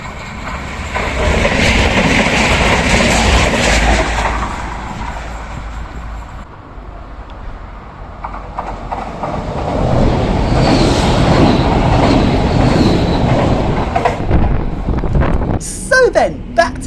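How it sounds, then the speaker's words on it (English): Mainline express trains whiz through a station in Barcelona, loud rushing and rumbling surges rising and fading as they pass, with wind buffeting and a sharp clatter near the end. "some mainline express trains whizzing past the station."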